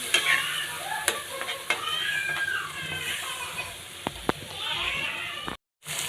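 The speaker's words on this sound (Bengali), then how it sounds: "তো বন্ধুরা এখন আমি সুন্দর করে মশলাটা কষিয়ে নিচ্ছি" Spice paste with a little water being stirred and fried in a pan, with steady sizzling and scraping spoon strokes close by and a voice talking over it.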